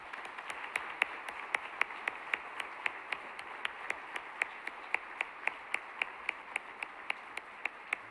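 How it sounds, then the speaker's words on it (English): Applause for award recipients at a university honors banquet, heard as a single, evenly paced sharp clap repeating about three times a second, faint and far off, continuing alone throughout. "Please applaud our awardees."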